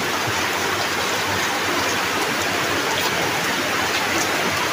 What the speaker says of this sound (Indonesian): Hujana badag.